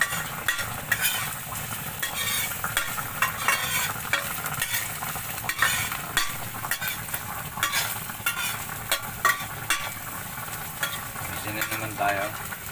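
Ginger and garlic sauté in a pan for chicken tinola, a steady close sizzle broken by repeated scraping and stirring clinks.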